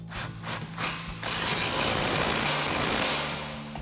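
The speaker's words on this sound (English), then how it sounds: "we're gonna grab our impact and 21mm socket and a 21mm wrench and tighten this down" An impact wrench with a 21mm socket tightening a suspension bolt during a lift kit install on a 2019-2024 RAM 1500, a few short ratcheting bursts followed by a sustained loud hammering run, close up and without speech.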